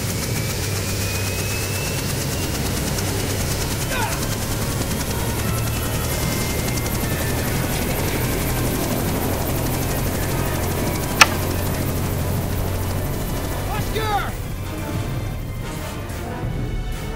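A helicopter flies in Jurassic Park The Game, its loud, steady rotor and engine drone running unbroken from start to finish, with a brief sharp click partway through.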